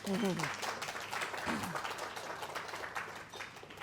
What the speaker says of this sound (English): So you're the home crowd, give yourself a clap.